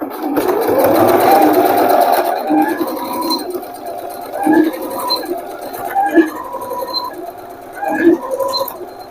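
A sewing machine stitches a straight pant seam in a loud, close, continuous run for about two seconds, then slows into scattered softer stitching and handling noises.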